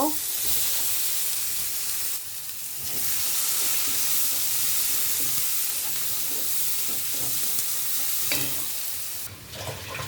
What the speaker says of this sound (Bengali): পেঁয়াজ কাঁচামরিচ দিয়ে দিব,